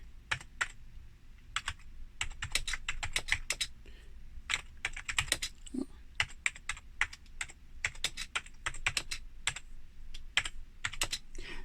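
Keys clack on a Tandy WP2 portable word processor, a quick irregular run of close, crisp taps with brief pauses, the slightly spongy keyboard typed on steadily with no voices over it.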